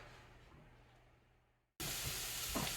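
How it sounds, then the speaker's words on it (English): Onions and garlic hit a pan coated with cooking spray and break into a loud, steady sizzle after a moment of near silence, with a few sharper crackles near the end. "So let's start cooking our onions and our garlic."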